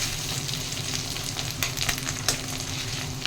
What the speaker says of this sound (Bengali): ডিমটাকে আমি ভুজিয়া করে নেবো। ডিমটা ভুজিয়া করে তুলে নেবো।